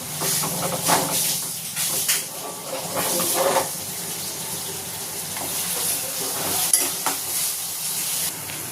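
Tomatoes fry in a pan with browned onion for misal, giving a sizzling hiss broken by repeated stirring scrapes and clatters. The sound is close and moderately loud throughout.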